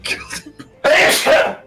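A short nasal intake followed by one loud, forceful sneeze burst, close to the listener.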